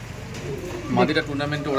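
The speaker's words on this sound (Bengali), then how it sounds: "ম্যাড্রেসি পায়রা আছে" Madras pigeons coo in a few soft, throaty bursts close by, over a low background hum.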